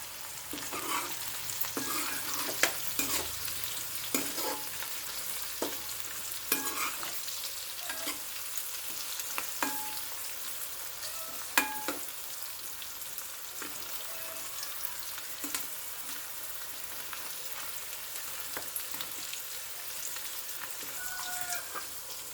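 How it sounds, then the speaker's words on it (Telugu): Bottle gourd pieces sizzle and fry in oil in a fish curry pan, a steady hiss broken by scattered sharp taps and scrapes of stirring. "ఇప్పుడు సొరకాయ ముక్కల్ని వేసుకోవాలండి"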